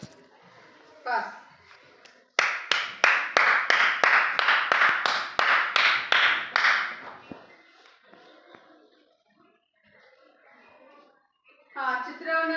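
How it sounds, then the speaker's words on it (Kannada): A group of children clap together in a quick, steady burst of roughly a dozen sharp claps lasting several seconds, close by in a classroom activity, with voices before and after. "ಚಪ್ಪಾಳೆ ಹಾಕ್ಬೇಕೀಗ."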